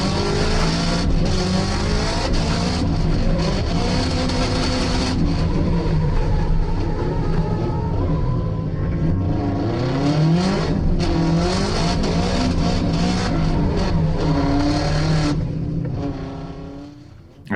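A race car drifting around a track, its engine revving hard and climbing through upshifts with clutch kicks, tires squealing at points; the loud engine runs continuously throughout, with no talk.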